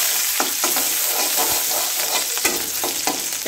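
Leafy greens frying with plenty of chopped garlic are stirred in a pan, giving a continuous close sizzle broken by quick scraping and clinking strokes.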